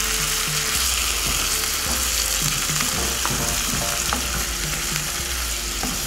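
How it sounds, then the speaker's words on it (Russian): A borscht base of carrot and tomato sizzles loudly in a pot while a spoon stirs it, scraping in a steady repeating rhythm against a constant frying hiss. "И все это дело перемешиваем."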